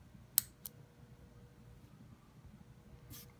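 A Fisher Space Pen AG7 push button clicks down, giving a couple of sharp, close clicks early on and one softer click near the end over a quiet room hiss.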